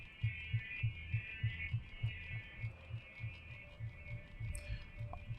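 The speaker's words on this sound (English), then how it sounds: "You can hear a very fast heartbeat." A rapid, steady heartbeat throbs low in a sci-fi game, Lifeless Planet, about two quick thumps per second over a faint ambient drone, with a soft chime near the end.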